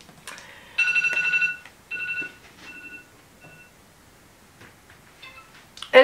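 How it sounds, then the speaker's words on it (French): A phone alarm rings in a quiet room as short bursts of bright electronic tones, loudest at first, then fading and repeating irregularly before a final sharp burst. "Excusez-moi pour l'alarme."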